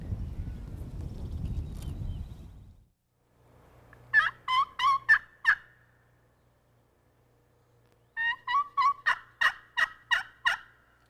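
Wild turkey gobblers gobble in spring woods, two bursts of rapid rattling gobbles, the first about six pulses and the second longer, loud and close, following a low rumbling noise that fades into quiet.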